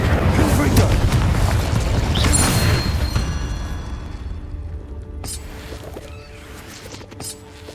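In Hogwarts Legacy, a Confringo spell goes off in a cave with a loud, rumbling explosive blast. The boom fades over several seconds, leaving a lingering roar and a few sharp crackles.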